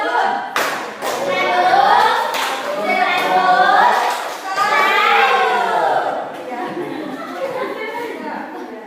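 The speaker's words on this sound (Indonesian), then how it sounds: "Terima kasih Pak Rul, kita kasih tepuk tangan juga." Classroom applause from a group of students, a sustained burst of hand clapping close by, mixed with children's chatter and talking throughout.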